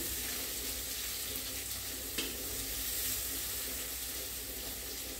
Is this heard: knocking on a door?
no